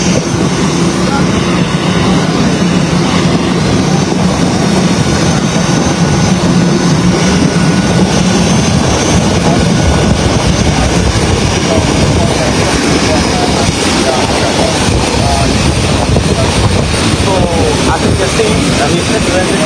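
An aircraft carrying Liberia's president arrives, its engines producing a loud, continuous roar that fills the air throughout, with voices audible beneath the steady engine noise.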